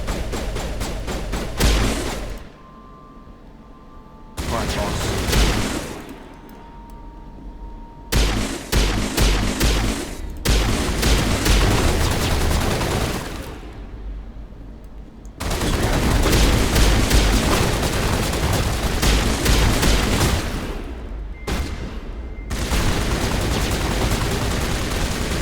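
Bursts of rapid gunfire in the video game Mass Effect 1, loud, sustained volleys of automatic shots with heavy thumps, separated by short quiet gaps.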